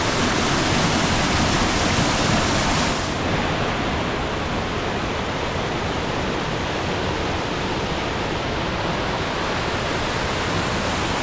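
A waterfall swollen by heavy rains pours into a cave beside a roadside guardrail, a loud, steady, broadband rush of falling water that continues unbroken, slightly louder in the first few seconds.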